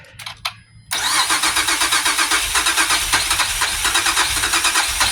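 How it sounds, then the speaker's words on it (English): A 2005 Acura TL Type S with a 3.5L engine cranks with a short burst of starter whirring, then catches and runs in a loud, close, steady rhythmic pulse. "We're going to go ahead and crank it."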